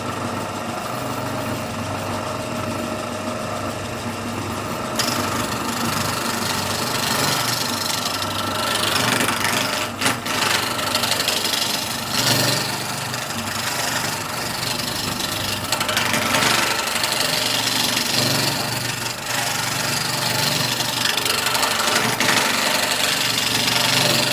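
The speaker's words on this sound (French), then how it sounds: "Donc je démarre le tour." A wood lathe spins an ash and cherry blank, giving off a steady, loud mechanical drone with gritty cutting and rubbing noise throughout.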